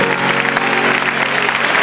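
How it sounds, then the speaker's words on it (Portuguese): Church congregation applauding loudly and continuously during a sermon, a thick mass of clapping with a faint musical hum underneath. "Aplauda Jesus."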